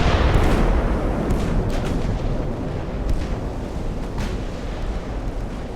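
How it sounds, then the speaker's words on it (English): A warship's ammunition case exploding in a naval combat game, a heavy rolling blast with deep rumble and scattered secondary pops and crackles, loud and sustained. "That is the ammo case exploding, the one I was talking about."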